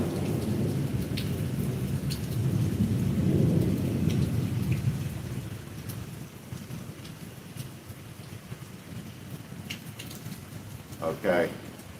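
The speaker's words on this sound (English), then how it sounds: "You hear that thunder?" Low rolling thunder rumbles through steady rain during a storm, loud at first and fading to a softer drone, with a brief voice breaking in near the end.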